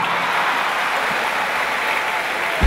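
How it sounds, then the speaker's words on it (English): Crowd at a live comedy show claps steadily, a thick, even wash of applause from a large audience that carries loud throughout, with no voices standing out. "clap for yourself."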